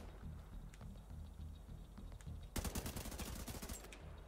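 Rapid automatic gunfire from The Division 2 video game, a dense burst of shots starting halfway through and continuing to the end, loud over quieter game ambience.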